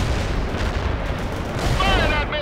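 Gunfire and artillery blasts from the World in Conflict strategy game, a dense continuous rumble of shots and booms up close, with a brief whistling sweep near the end.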